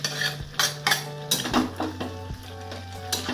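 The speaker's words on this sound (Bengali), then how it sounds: "এইবার আমি দিয়ে দেবো এর মধ্যে চিংড়ি মাছ," Prawns go into a pan of jackfruit curry, with close metallic clinks and scrapes of a spoon stirring against the pan, repeated in irregular bursts under a soft sizzle.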